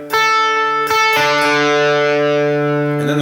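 Electric guitar with distortion plays a riff, a few sharp attacks and then a sustained chord ringing out loudly and closely, with no talking.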